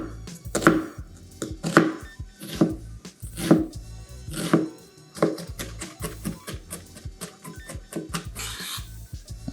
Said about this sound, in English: I'm going in with half of a purple onion. And I want to try and chop this as finely as possible.